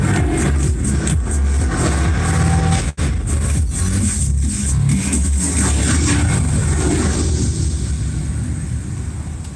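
A Hero Passion Pro 2020 motorcycle engine rumbles steadily at a live unveiling event, a loud continuous mid-pitched drone with slight swells that holds for about ten seconds with no talk.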